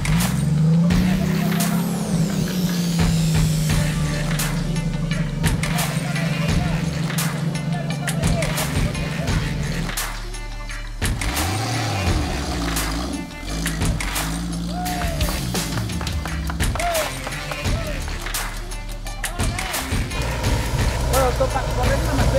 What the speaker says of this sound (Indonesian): menyebabkan sejumlah mobil harus berusaha agak ekstra agar dapat menaklukkan tanjakan demi tanjakan